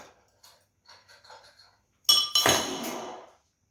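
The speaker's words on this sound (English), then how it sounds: "I'm just going to chuck them into my glass of water when I feel that they are at the desired color" Hot metal knife parts are dropped into a glass of water: a few faint clicks, then a bright, sharp clink against the glass followed by a loud hissing sizzle that fades after about a second.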